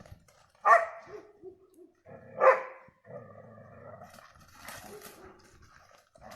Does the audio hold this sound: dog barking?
yes